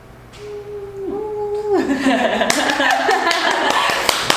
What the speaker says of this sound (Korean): 영혼 없는 박수